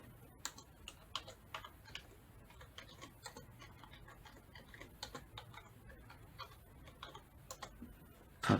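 Typing on a computer keyboard: quiet, close clicks of keys tapped in short irregular bursts and pauses, ending with a brief louder rustle.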